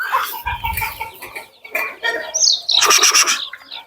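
Andijan black breed chicks and hens make a close, uneven mix of clucks and high, rapid peeping that grows busier toward the end.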